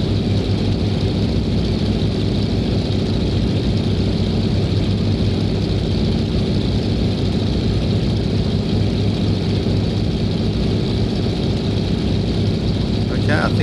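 Steady, loud drone of the De Havilland Beaver's radial piston engine and propeller in the X-Plane 10 flight simulator, holding a constant low roar throughout the climb after flaps are raised, with a brief click near the end.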